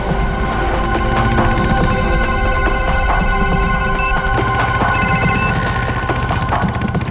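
A mobile phone ringtone rings continuously and loudly for several seconds, a repeating electronic melody over steady background noise.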